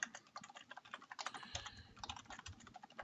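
Rapid, uneven clacking of keys on a computer keyboard as code is typed, a quiet close-up patter of dense keystrokes with a few heavier thumps, no voice over it.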